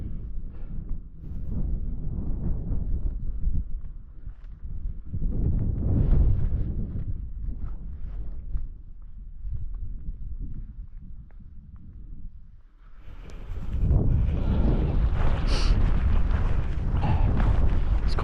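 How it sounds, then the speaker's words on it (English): Strong wind gusting across an open alpine plateau, buffeting the microphone in loud rumbling bursts that ease and return, with no voices. "Quite windy this morning. It's just windy the whole time."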